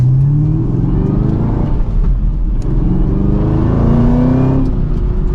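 A 2023 Chevrolet Camaro ZL1 accelerating hard, with its engine note rising in pitch as it revs through the gears, loud and continuous from close inside the car, with no talking.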